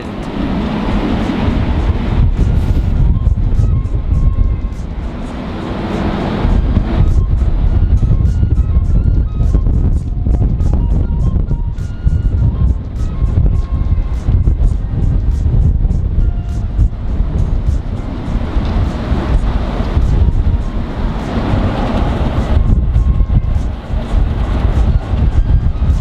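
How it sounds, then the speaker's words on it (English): Gale-force wind roars and buffets a microphone outdoors, loud, continuous and gusty for the whole stretch with heavy low rumble. "intense wind."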